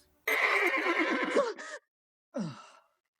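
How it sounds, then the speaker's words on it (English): A palace horse lets out a loud, drawn-out whinny lasting over a second, then a shorter snorting neigh follows after a brief pause, close and alone without any talk. "A palace horse."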